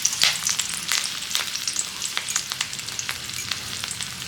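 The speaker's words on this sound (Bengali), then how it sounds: "কালো জিরা ফোড়ন দিচ্ছি।" Black cumin (nigella) seeds tempering in hot oil, a close sizzle with rapid, sharp pops and crackles scattered throughout, fading slightly toward the end.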